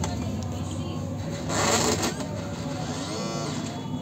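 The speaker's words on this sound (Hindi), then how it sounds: "चालू करते हैं प्रिंटर को" Epson L360 inkjet printer powering up, its carriage motor whirring and clicking steadily at close range with a brief louder burst of mechanical noise midway.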